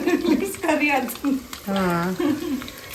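Crushed garlic and onion sizzling in hot tempering oil, a steady close frying hiss with a few stirs, while a person talks over it.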